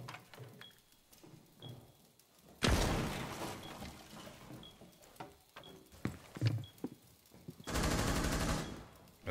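Gunfire in Rainbow Six Siege, loud bursts of rapid automatic shots, two long sustained volleys plus scattered single shots and clatter, over faint background game noise.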